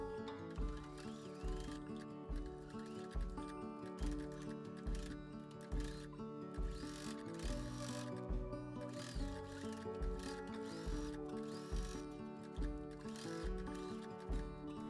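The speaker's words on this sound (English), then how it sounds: "Sew along the entire bottom line of the waistband to secure the skirt in place and to top stitch the waistband." A sewing machine top stitches along an apron waistband, giving a long run of rhythmic mechanical clatter with regular pulsing beats and gear-like whirring, fairly quiet and continuous.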